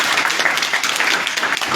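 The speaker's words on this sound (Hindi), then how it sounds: "इनके लिए तालियां बजाएं।" An audience applauds in a dense, continuous burst of clapping, loud and even from start to finish.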